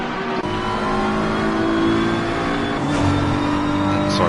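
McLaren and BMW race cars accelerating in a PS5 racing game, a steady, loud, high-pitched engine whine that rises gradually as the cars gain speed.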